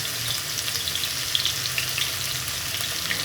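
Chopped onions fried in oil until golden brown for an egg and potato gravy: a steady, dense sizzle with crackling spatters close by, no talking.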